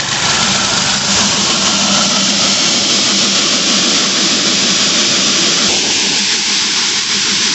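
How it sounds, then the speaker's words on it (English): An electric motor drives an antique Lenz AA 451 burr mill grinding corn, a loud steady whirring roar with hissy grinding texture that holds constant across the clip. "The motor's still cutting in and out."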